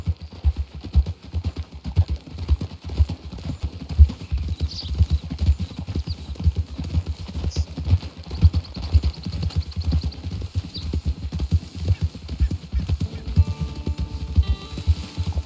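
Horse hooves clip-clopping steadily at a walking pace in the Red Dead Redemption II western video game, close and continuous with a soft ambient bed behind, no talk over it.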